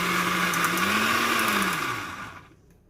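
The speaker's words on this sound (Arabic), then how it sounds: "هنا غادي ناخذ الخلاط الكهربائي وغادي نطحن كلشي المواد ديالي" An electric blender grinds raisins, mint and other juice ingredients for a raisin cough-remedy drink, giving a loud, continuous motor whirr whose pitch rises and dips before winding down and stopping near the end.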